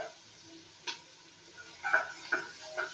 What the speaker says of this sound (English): I think you can hear it sizzling